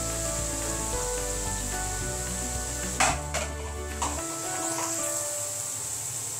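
Soybean chunks dropped into oily spice masala set off a steady close sizzle and frying crackle, with a few clattering knocks from the pan midway before the hiss settles on its own.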